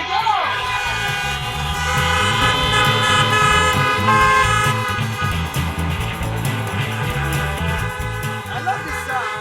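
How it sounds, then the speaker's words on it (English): Many car horns honk together at an outdoor drive-in event, a dense overlapping chorus of sustained toots and blasts from a crowd of parked cars, loud and continuous throughout. "Honk your horns."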